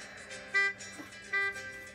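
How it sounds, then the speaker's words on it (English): A little blue truck's horn sound effect from a children's read-aloud gives two short, bright toots about a second apart, close and alone. "Beep, said Blue, who wants a ride?"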